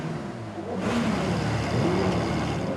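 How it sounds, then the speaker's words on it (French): Car-club members revving their engines as a funeral procession passes in Savoie, a rough mid-pitched engine roar that swells in after a quieter start and holds steady. "Les copains de leur club automobile font retentir leur moteur pour les accompagner une dernière fois."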